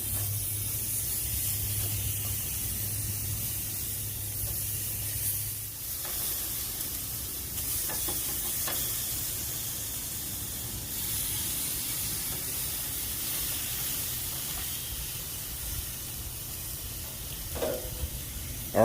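Thin marinated beef tenderloin steak sizzles on a hot grill pan with a constant close hiss and crackle, plus a few soft clicks and scrapes, no talking.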